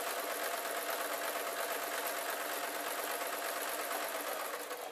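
A home sewing machine runs fast and steady, stitching fabric triangles for bunting with a continuous close whirring rattle and no pauses.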